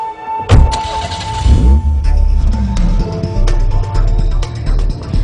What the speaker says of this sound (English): Now we'll take a ride on a country road, completely relaxed in the lower speed range.